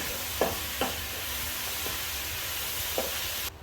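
Precooked courgettes and aubergines stirred in a cooking pot for ratatouille, with a soft continuous sizzle and a few distinct scraping strokes of a spoon, close and moderately quiet, with no voices.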